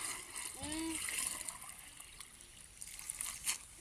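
Soft, scattered splashing of water being sprinkled, faint and hissy, with a brief voice near the start.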